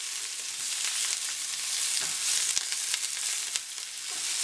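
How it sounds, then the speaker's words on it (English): Onions saute in a pan ahead of mushrooms, giving a continuous bright sizzle with scattered pops and light stirring clicks, close and fairly even. "I'm going to let these saute for probably a good 5 minutes"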